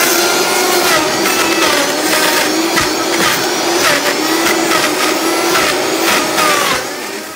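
A loud blender whirs continuously, blending avocado and limes for gazpacho, with a steady motor drone and chopping, grinding texture that eases slightly near the end.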